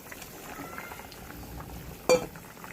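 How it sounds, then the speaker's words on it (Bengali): Egg curry gravy bubbles at a low, steady boil in a pot, with one brief clink near the end. "ঝোলটা জাল হয়ে গেছে, এখন টমেটো দিয়ে দেবো"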